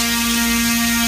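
An electric motor spins a propeller on a motor tester at several thousand RPM, producing a loud, steady tonal hum and whine with strong harmonics that holds constant throughout, with no voices.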